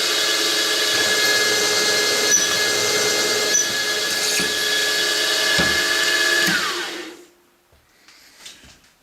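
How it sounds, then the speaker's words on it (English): A power drill boring clearance holes for 6mm clamping screws in an offcenter chuck workpiece, a loud, steady whine with a tonal hum that runs for several seconds, then winds down and stops, followed by faint clicks. "we drilled our 2 clearance holes for the 6mm clamping screws"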